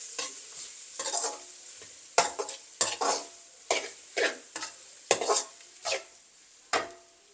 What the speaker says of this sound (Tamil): எல்லாம் நல்லா மிக்ஸ் பண்ணுவோம்.